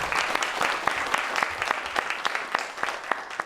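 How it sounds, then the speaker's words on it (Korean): An audience at a book talk applauds as guests are introduced, moderately quiet, steady clapping from a modest crowd with distinct individual hand claps popping through. "박수 좀 드리겠습니다"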